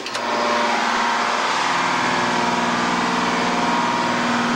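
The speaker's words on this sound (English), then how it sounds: "The real loud noise back here is mostly going to be the generator" A loud, steady mechanical drone of a tugboat generator runs without a break, churning close by in an enclosed space, with no voices.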